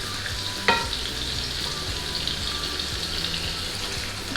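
Meat mixture and vegetables fry in a hot pan for lasagna, a steady close sizzle with a brief clatter early on and no talking.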